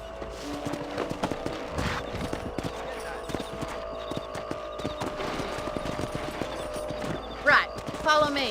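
Horse hooves clop in a steady rhythmic gait while riding in the video game Red Dead Redemption, with people talking over the hoofbeats and a couple of louder bursts near the end.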